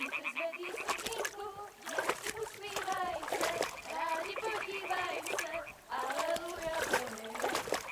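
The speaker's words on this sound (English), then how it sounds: "Throw a stone in the water near her to lure her away." A stone thrown into water splashes in the video game Kingdom Come: Deliverance II. Short watery splashes come through amid frequent voices talking.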